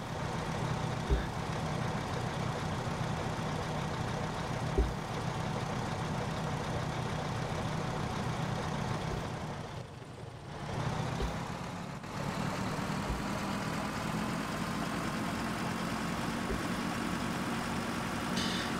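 A red tractor's engine drones steadily in the video game DayZ, a low, fairly faint continuous rumble with a brief dip midway and a few soft knocks.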